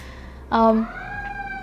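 A passing emergency siren, police or ambulance, rises into a brief loud wail and then lingers as a steady tone, heard through a home in a loud neighborhood with a voice speaking nearby.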